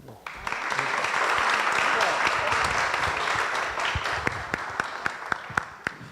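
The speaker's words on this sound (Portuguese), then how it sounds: "pedir uma salva de palmas para os dois" An audience at a debate held at Shakespeare House during Flip 2016 bursts into sustained applause for the guests, a dense, even wash of clapping that thins out into a few separate, sharp claps at the end.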